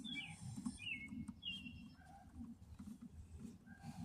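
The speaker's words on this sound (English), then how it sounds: "I love the birds chirping, it's so pleasant." Faint outdoor birdsong with scattered chirps and whistled calls over a low, steady background rumble, distant and soft.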